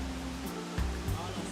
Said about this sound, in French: C'est une agréable surprise en fait, de trouver une cascade ici dans une région qui n'est pas vraiment montagneuse